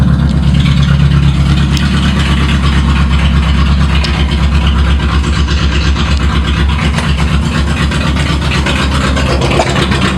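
A Toyota Starlet's engine idles while warming up after a spark plug change, a loud, steady low rumble with a faint pulsing throb that continues throughout with no talking.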